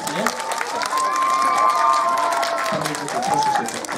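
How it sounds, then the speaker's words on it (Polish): An audience at a meeting with an artist breaks into sustained applause, with clapping and some cheering filling the room while voices are heard over it. "Oklaski."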